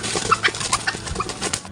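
A captured wild red junglefowl in a Philippine forest gives a quick series of short, close clucks, several soft throaty calls packed into under two seconds.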